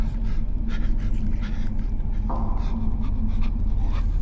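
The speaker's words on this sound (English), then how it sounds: "all of this loud breathing would get him fucking killed" Heavy, loud panting breaths from a horror video game character lurking in the dark, repeating steadily throughout with a continuous rough airy texture.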